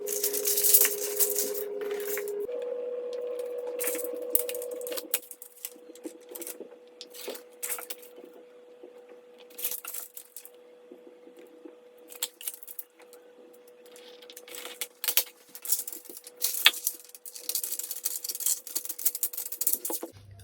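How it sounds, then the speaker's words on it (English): Aluminum foil being cut by hand into pieces for a homemade supercapacitor, giving a run of crisp, irregular crinkles and snips over a low steady hum, fairly close and moderately quiet. "So let's cut our aluminum foil to make our supercapacitor."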